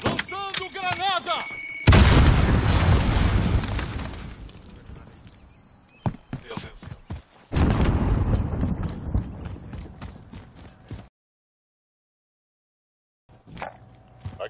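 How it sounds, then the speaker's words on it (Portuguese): Grenade blasts in the Call of Duty video game: two loud, broadband booms with rolling rumble, separated by a few seconds of sharper crackling shots, then a stretch of silence and a brief final burst. "Lançando granada!"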